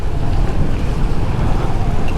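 Water falling lightly at Kalu Falls during a low-flow dry spell, a steady broadband wash of spray and rushing water with wind buffeting the microphone, loud and continuous with no voices.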